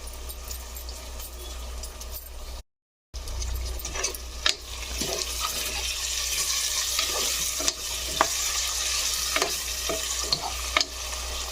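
Tomatoes sizzling in a hot pan for mutton curry, a steady crackling fry with intermittent scraping clicks of a spoon stirring, close and continuous after a brief silent gap.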